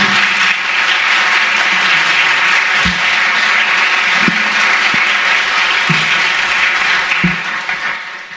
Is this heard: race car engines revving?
no